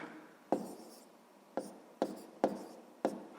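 Handwriting on paper while working a sixth-grade maths problem: five short, distinct pen or chalk strokes, each a crisp scratchy onset fading out, spaced irregularly and heard close with no talk.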